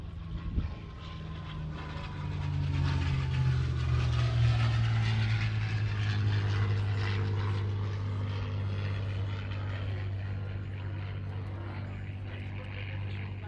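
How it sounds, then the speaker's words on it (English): A B-25 Mitchell propeller bomber flies past at an air show, its deep piston-engine drone swelling and holding loud, then slowly fading, while voices talk faintly underneath. "Flying our B-25 Mitchell."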